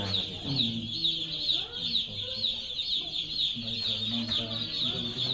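A dense, continuous chorus of chickens clucking and high chicks peeping close by on a poultry farm, with a low voice murmuring underneath.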